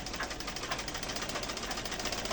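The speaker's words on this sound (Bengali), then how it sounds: "এই এখন আমি সেলাই করে দেখাবো আপনাদেরকে কাপড় কুচকে যায় কেন।" A sewing machine stitches fabric in a steady, continuous mechanical whir, close and moderately loud, with no talking.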